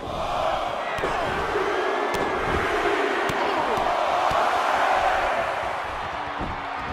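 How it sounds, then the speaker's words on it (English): Crowd applause and cheering in a WWE 2K18 wrestling arena fill the whole stretch, a dense steady roar with a few sharp slaps and thuds standing out, under a commentator's voice. "A lot of people applauding this superstar's bravery."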